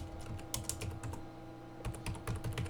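Fingers tap on a computer keyboard in two quick bursts of keystrokes separated by a short pause, close and fairly quiet.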